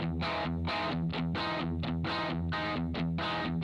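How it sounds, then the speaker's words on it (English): Crunchy distorted electric guitar from a 2011 Fender Telecaster bridge pickup fitted with Fender Nocaster pickups, played through an Amplitube 5 Marshall crunch amp model; loud rhythmic chords in short repeated bursts, steady and up front with no talking. "I put a pair of Fender Nocaster Tele pickups in there, so that's the bridge pickup you're hearing."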